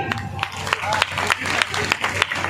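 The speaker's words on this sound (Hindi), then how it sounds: "लेकिन अब तो बजाओ ताली" Audience at a Hindi poetry gathering (kavi sammelan) claps in a loose, steady rhythm, with sharp regular beats over a low hum and voices mixed in.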